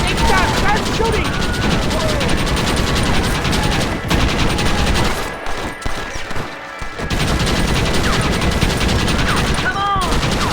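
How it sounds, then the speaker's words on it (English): Dense video-game gunfire from a shootout during an assault on a fort in Red Dead Redemption, loud continuous volleys of rifle and pistol shots with a brief lull midway, then resuming. "Why are they all shooting at me?"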